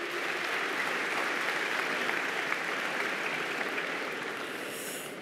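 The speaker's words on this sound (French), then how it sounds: "Il faut l'applaudir." Audience applause fills the hall at an evening ceremony with families gathered, a steady dense clapping that holds at an even level for several seconds and tapers slightly at the end, with no voices over it.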